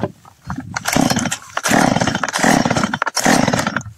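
Stihl MS193TC chainsaw being restarted with an aftermarket carburettor, loud and close, its engine sputtering and revving in uneven bursts with brief drops between them.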